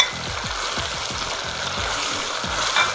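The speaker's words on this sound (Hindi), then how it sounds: "भूनेंगे अभी इस मिक्सचर को मज़ीद 2 से 3 मिनट के लिए ताकि ज़बरदस्त किस्म का मसाला हमारा तैयार हो जाए" Ginger garlic paste fries in a tomato masala with a constant close sizzle and a scraping stir repeated every half second or so.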